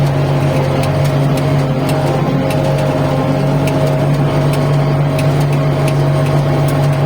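A small tractor ploughing a field runs as a steady, loud engine drone with a constant hum and faint ticking clicks throughout, with no talk over it.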